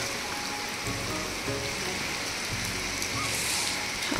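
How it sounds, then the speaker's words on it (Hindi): Steady, dense rain pours down, a constant hiss of drops hitting the ground with no pauses. "आज यहाँ पूरी रात भर बारिश हो रही है"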